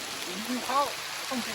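Heavy rain hisses steadily in the background while people talk briefly nearby.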